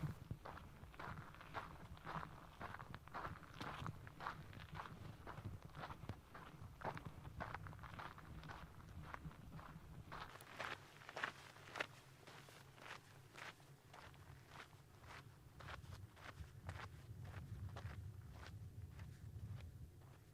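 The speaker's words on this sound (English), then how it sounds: "your feet meditatively repeat the same pleasant sound of walking on the desert" Steady hiking footsteps crunch across dry desert ground on a trail, an even walking rhythm of gritty steps close by, faint and continuous with light wind and no talking.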